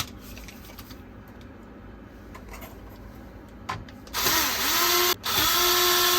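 A power screwdriver backs screws out of the motherboard of a Synology DS1813+ NAS being repaired: after light handling clicks, two close, loud whirring runs follow, split by a brief pause.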